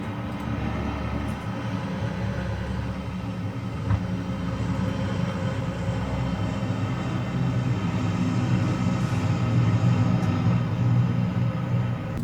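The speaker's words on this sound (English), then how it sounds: "That aeroplane, where's that?" Aeroplane engine in the PUBG video game, a steady, loud droning roar that holds throughout and swells slightly toward the end, with no one talking.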